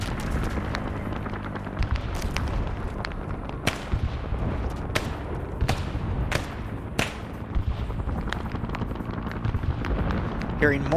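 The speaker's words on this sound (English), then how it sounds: "Hearing more mortars firing out right here." Mortars and gunfire in a Vietnam war video game sound as repeated sharp cracks and booms at irregular intervals over a constant low battle rumble.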